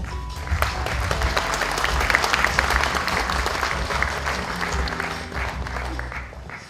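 Large audience applauding steadily at a broadcasting channel industry ceremony in Korea, a dense, loud wash of clapping filling the hall for several seconds, with a low room rumble underneath and no voices on top.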